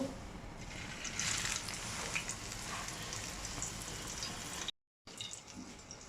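A slice of fish toast frying in hot oil, a steady soft bubbling sizzle that runs continuously and briefly cuts out, quiet and close with no voices.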